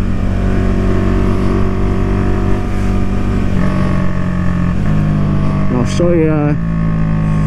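Husqvarna Vitpilen 401 motorcycle engine idling steadily up close, then briefly revved with a few quick rising blips near the end, with someone talking over it.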